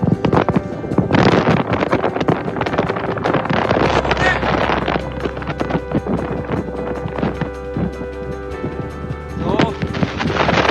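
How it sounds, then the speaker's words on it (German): Heavy wind buffeting a microphone at the North Cape, a continuous low rumble and roar with gusts throughout, loud and close. "Es ist verdammt windig."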